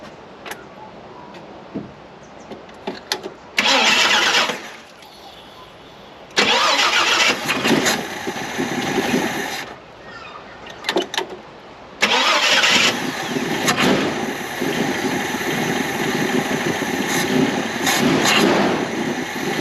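Ex-police Ford Falcon panel van engine cranking and catching in repeated bursts after a carburetor adjustment, each attempt loud and close, with rough running and brief quiet gaps between tries.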